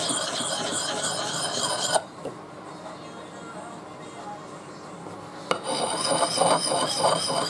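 An axe blade is sharpened by hand in rasping strokes, some rapid and rhythmic and others slower and gentler, heard up close with a quieter pause between them.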